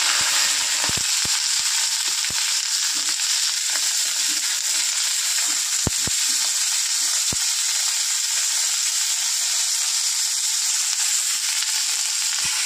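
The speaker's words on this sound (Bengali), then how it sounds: "তেল গরম হয়ে গেছে, ফুলকপিগুলো ভেজে নেব" Cauliflower pieces frying in hot oil, a loud, continuous hissing sizzle with occasional sharp pops and crackles, close up with no voices.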